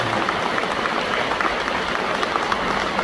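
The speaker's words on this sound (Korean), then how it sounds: "다시 한번 찬탄의 박수 한번 부탁드립니다" Audience applause at a Buddhist dharma talk marking a temple gathering's 51st anniversary, dense sustained clapping from a large crowd, steady and fairly loud throughout.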